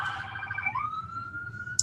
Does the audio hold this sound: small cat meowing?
no